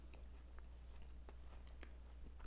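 Crisp bites and crunchy chewing on a traditional gourmet sandwich, a few faint, close crunches spaced apart against a quiet background.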